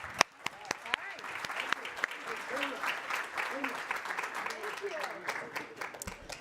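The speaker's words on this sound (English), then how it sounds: "Another round of applause when they take their seats." An audience gives another round of applause as governors take their seats, a moderate patter of clapping with sharp individual claps standing out and some talk underneath.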